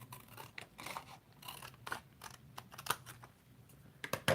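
Scissors snip through paper to cut out a stamped craft piece. Short, close, irregular cuts and rustles repeat at a low volume with no talking.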